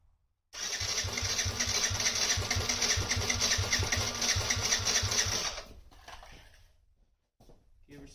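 A Yamaha Raptor ATV engine with a needed tune-up cranks steadily for about five seconds, a fast rhythmic starter churn that never catches, then cuts off, leaving quieter shuffling sounds.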